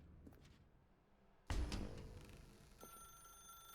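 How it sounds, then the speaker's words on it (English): A telephone rings in The Stanley Parable Ultra Deluxe, a sharp loud onset after a quiet stretch, then a sustained ringing tone with faint background ambience and no talk. "Now pick up the phone."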